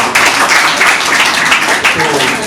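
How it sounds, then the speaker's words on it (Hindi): Sustained audience applause at an open mic poetry event, a dense, steady wash of clapping from a crowd with some voices mixed in, loud and close throughout. "तालियां मार के उनकी नज़र करना चाहिए"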